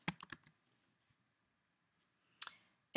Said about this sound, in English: It wants us to type 3 in the repeat count box and then click OK